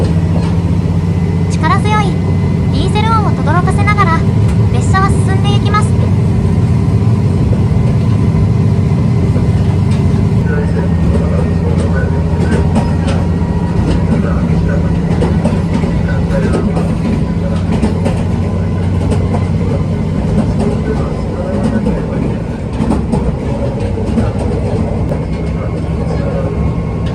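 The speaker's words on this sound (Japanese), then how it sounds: "力強いディーゼル音を轟かせながら列車は進んでいきます。" The JR Kyushu diesel sightseeing train Kanpachi Ichiroku runs past Amagase station on the Yufu Kogen line, its engine a strong, continuous rumble throughout with rolling rail noise and a few brief high squeals near the start.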